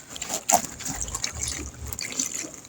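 Water poured into a bucket of kitchen scraps with coffee grounds, a soft splashing trickle running for a couple of seconds, close by and fairly quiet, with no talking.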